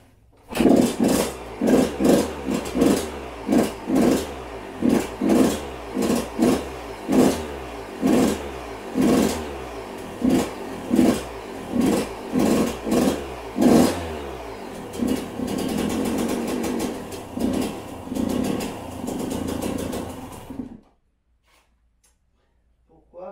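A Yamaha YZ 125 two-stroke motocross bike that won't hold idle is revved in repeated short blips, then runs in a steadier, fluttering drone before cutting out abruptly into silence.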